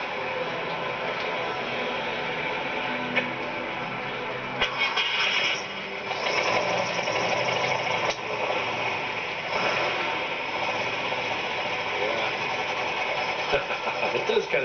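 A car engine idles steadily at an outdoor car show, a loud, even mechanical rumble with the air-cooled character of a VW bus, while voices talk nearby.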